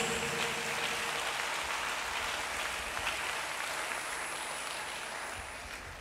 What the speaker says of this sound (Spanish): Denle ese aplauso fuerte a Jesús.